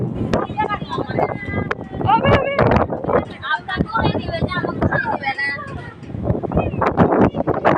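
Rough gusts of outdoor wind buffet the microphone, rumbling and surging continuously throughout, with a voice speaking briefly over the blustery noise.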